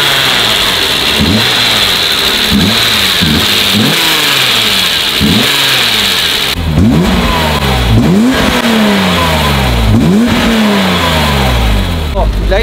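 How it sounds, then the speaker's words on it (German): A BMW E34 M5 straight-six engine revved repeatedly with sharp throttle blips, each rise and fall of revs heard in a steady series, loud and close, continuing throughout. "Mach den Motor mal an und gib so ein paar Gasstöße"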